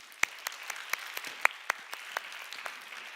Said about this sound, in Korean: 우리 저 친구들을 위해서 박수 좀 하겠습니다.